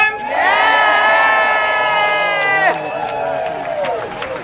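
A crowd at an evening health insurance reform rally in Richmond, Virginia roars with sustained cheering and whooping, voices blending into a loud, continuous swell that dips and carries on with scattered shouts.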